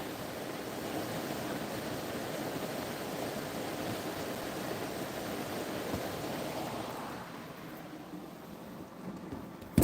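Steady broadband rushing of water, continuous and fairly loud, easing slightly near the end with a brief bump at the close.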